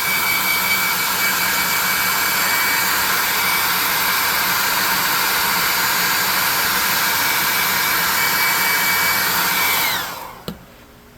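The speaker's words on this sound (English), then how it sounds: "let's dry that off with that +2 hot air gun burning" A hot air gun dries paint on a handmade carpet-shaped tabletop game prop, blowing a loud, steady, close roaring whoosh for about ten seconds before it cuts off with a brief click.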